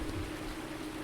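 Rain falls in Farming Simulator 19 on the Chellington Valley map in late summer, a brief, even, soft wash of noise with no other sounds.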